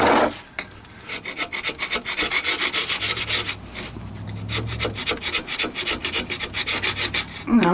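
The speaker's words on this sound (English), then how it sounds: "it helps if you got a nice sharp chisel" A sharp chisel scraping an old original gasket off a 1993 GMC Sonoma work truck, giving close, rhythmic rasping strokes in quick bursts, with no talk over it.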